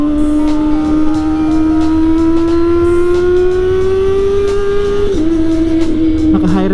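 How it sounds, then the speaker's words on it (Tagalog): A Kawasaki ZX400 motorcycle engine screams at high revs, a loud steady whine slowly climbing in pitch, dipping briefly near the end. "Naka high rev na siya."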